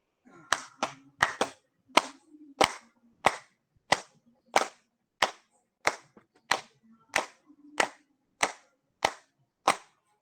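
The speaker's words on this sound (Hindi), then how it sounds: "ताली बजा ले 15 बार" A single person at a daily yoga session claps hands in a steady rhythm, about fifteen sharp, close, evenly spaced claps with silence between them.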